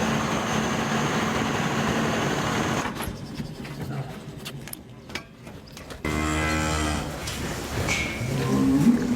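Cows at pasture moo in loud, drawn-out calls, with a low mechanical hum in the background and a second long moo near the end.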